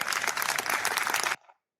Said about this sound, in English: Well, they're clapping because of that move.